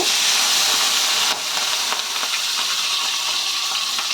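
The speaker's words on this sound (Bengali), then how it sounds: "এবার আমি এক এক করে মাছগুলো দিয়ে দেব।" Rohu fish pieces hiss and sizzle loudly in hot oil, a dense steady spatter that drops a little after a brief clatter as pieces go in, with no speech.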